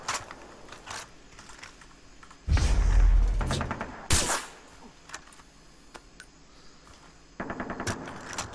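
Gunfire in the video game Far Cry 3: quiet bursts of rapid automatic shots and a few heavier single blasts, irregularly spaced among faint background clicks.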